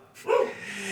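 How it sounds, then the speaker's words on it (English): A pet dog gives a single short, muffled bark indoors, close but not loud, followed by quiet room tone. "Sorry about my dog."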